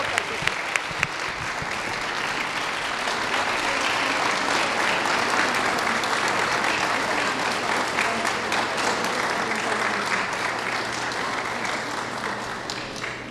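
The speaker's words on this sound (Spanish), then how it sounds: "Un aplauso para todos" Sustained applause from a large audience at a citizens' debate for municipal presidency candidates in Naucalpan, steady dense clapping throughout with a few sharper claps near the start.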